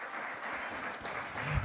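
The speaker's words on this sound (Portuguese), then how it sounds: "Podem aplaudir ao Senhor Jesus." Congregation in a church service applauds, a steady, fairly quiet wash of many hands clapping that carries through the whole moment, with a low thump near the end.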